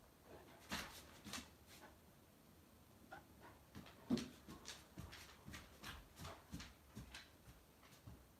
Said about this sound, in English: my puppy making noise